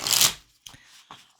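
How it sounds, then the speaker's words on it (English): Oracle or tarot cards shuffled up close: a loud, rapid riffle at the start, then two quieter slaps and rustles as the deck is squared. "Let's see if Jen can actually shuffle."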